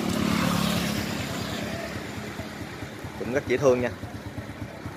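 An Alpha 100cc motorcycle engine idles with a steady low exhaust rumble throughout, while people talk over it.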